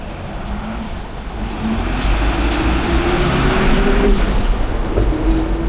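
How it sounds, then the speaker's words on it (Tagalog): Small cars drive along a Tokyo street near the Tsukiji outer market, engines rising and passing close by over a steady traffic hum, with faint clicks and rising engine tones. "Ito mga kotse nila."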